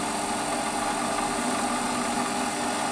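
A Warco metal lathe runs steadily while cutting metal, giving a continuous mechanical hum and whir at a constant moderate level. No one speaks over it.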